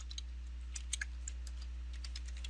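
Typing on a computer keyboard while coding in Python: faint, irregular light key clicks in quick scattered bursts over a steady low electrical hum, no voices.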